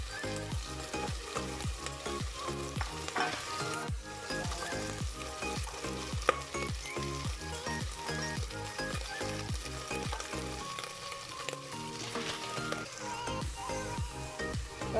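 Garlic frying in a pan, a dense continuous crackling sizzle throughout, close and even, with faint rhythmic stirring strokes beneath it and no talking.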